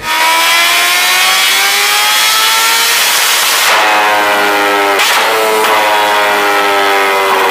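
A motorcycle engine revs hard at high RPM with rising and falling pitch, loud and close, with sharp backfire pops breaking through the whine.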